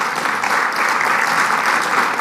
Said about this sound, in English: We're going to go for at least 3 rounds of applause